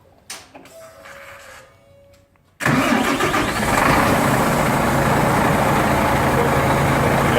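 IVECO Stralis 560 truck with a Cursor 13 diesel engine cranking and firing up, then settling into a loud, steady rumbling idle with turbo hiss, heard close after a few quiet seconds of handling noise.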